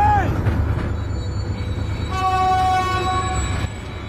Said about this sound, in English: A train was coming behind.